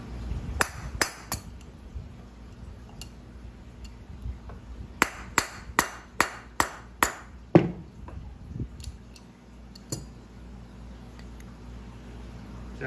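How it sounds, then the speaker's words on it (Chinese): A hammer taps the shaft of an aquarium water-pump motor to knock out a bearing. Sharp metallic strikes ring out, a few scattered at first, then a quick run of about eight evenly spaced blows, then a few more sparse taps over a low background hum. "我们可以拿着工具卡住它底部的部分，拿锤子从轴心稍微敲一下"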